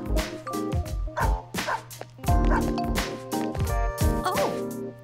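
A dog barks in the Persona 3 video game, several sharp yips and bow-wow barks in quick succession over tonal game music, loud and close.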